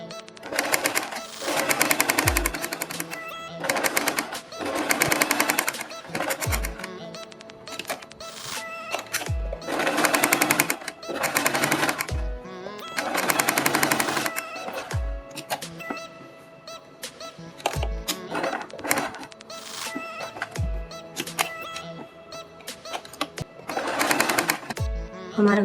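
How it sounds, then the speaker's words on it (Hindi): A sewing machine stitches fabric for a beaded neck design in short repeated bursts of rapid mechanical whirring separated by pauses, moderately close, with faint talk in the gaps. "यहाँ से सिलाई लगाते हुए इस तरह से ये सिलाई हम यहाँ पर उतार देंगे।"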